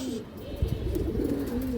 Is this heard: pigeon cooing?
yes